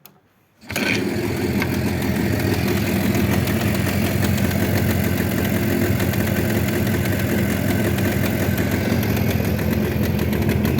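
A rebuilt Jawa 638 motorcycle engine, started cold with the choke on, settles into a steady, even idle that runs loud and continuous after a brief silent start.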